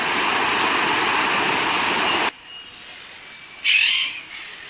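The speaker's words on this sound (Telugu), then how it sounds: "చూస్తున్నారు కదా, రకరకాల చిలుకలు, ఇంకా వేరే వేరే పక్షులు. సన్ పారాకీట్ అట" Sun parakeets and other birds in an aviary at Ramoji Film City: a waterfall's steady rush fills the first half, then after a pause one loud, shrill squawk bursts out and fades.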